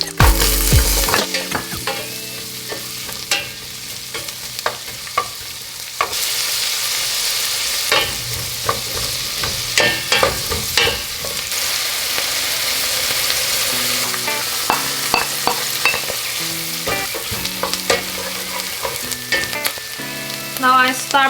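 Onions fry in a pan for Turkish Ezogelin lentil soup, giving a steady loud sizzle with repeated scraping stir strokes throughout, no voices.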